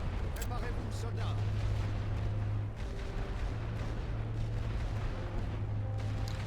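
Continuous rumbling artillery barrages in the Western Front trench war game, a dense low roar of distant booms and gunfire filling the whole stretch at steady loudness, with faint voices mixed in.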